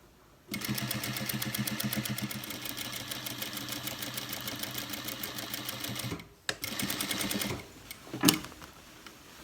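A sewing machine stitches the back pocket of cargo pants, running at a steady rapid pace for several seconds, pausing, then making a short second burst followed by a sharp thump. It is close and alone, with no talk.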